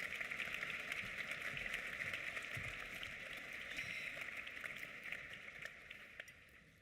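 A conference audience at an opening plenary session gives a dense, even round of applause. The sound is faint and distant and eases off slightly toward the end.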